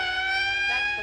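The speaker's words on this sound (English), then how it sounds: "That's the 5th siren in the last hour." A loud, steady electronic siren tone with strong harmonics wails continuously and close by, with no talking over it.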